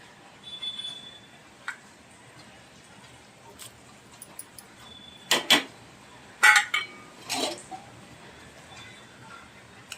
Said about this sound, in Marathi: आता आपण ह्या सगळ्या वड्या सोडूया